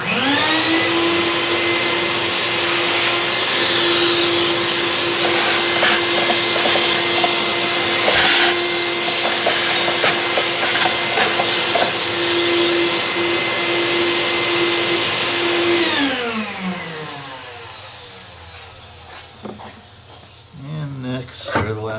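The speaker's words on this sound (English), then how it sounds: "There's a little bit of dirt down in the bottom, so we'll just go ahead and we'll vacuum that out." A vacuum cleaner runs steadily and loudly while sucking dirt from the engine bay of a 2011 Ford Fusion SEL with the 3.0L engine, then winds down and stops near the end.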